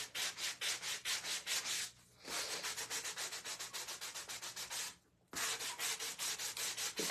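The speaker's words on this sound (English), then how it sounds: "I want to just sand off the excess paint that I painted over the edge" Close, rhythmic back-and-forth strokes of sandpaper rub excess paint off the edge of a wooden spring door hanger, in two steady bursts separated by short pauses.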